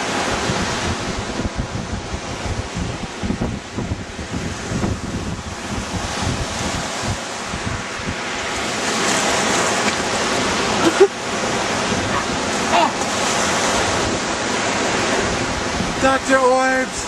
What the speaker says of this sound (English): there are two ways to approach and go into the ocean